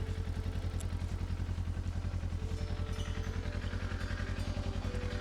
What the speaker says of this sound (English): I started to like the sound of this Traveler Twin